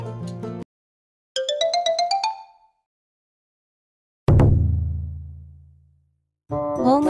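A phone ringtone plays loud and close in separate bursts: a sustained chord, a quick rising run of bright tones, then a booming note that fades slowly before the tune starts again.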